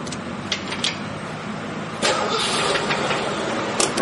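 A car engine cranks and catches, and the broad roar jumps up and holds steady into a close, loud idle after a few clicks and knocks.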